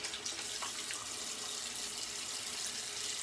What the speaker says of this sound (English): we're going for the cold water rinse.